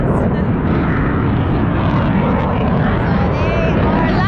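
An airplane passes close by while landing or taking off near a riding route in Austria, a loud continuous engine roar that fills the whole clip with a broad rushing drone.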